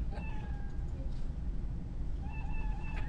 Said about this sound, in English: We can go to sounds, and we can say meow.